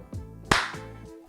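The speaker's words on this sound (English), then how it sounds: "Give me a 1-2 clap." Sharp hand claps ring out close and loud, a few distinct smacks with short room echo between them and nothing else underneath.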